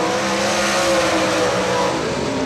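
Rocket chassis dirt late model race car on a qualifying lap at Atomic Speedway, its engine roaring loud and continuous at high revs with shifting harmonic whine as it powers around the track.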